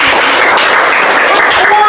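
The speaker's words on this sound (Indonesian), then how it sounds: "Oke, tepuk tangan." Dense, loud applause fills a classroom as students clap together during a teaching practice lesson, a continuous rapid patter with no gaps.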